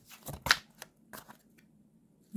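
Tarot cards are shuffled by hand in a few quick, soft riffling bursts, close and quiet, followed by a brief pause and a final light shuffle.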